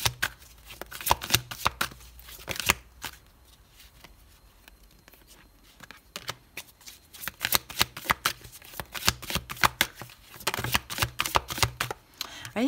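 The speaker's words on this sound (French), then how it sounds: "Allez, je pose les 8 cartes pour vous, Sagittaire." Light Seers tarot cards are shuffled, slid and laid down on a surface, giving dense crisp riffling bursts and soft taps, close and clear, with a quieter stretch between active handling.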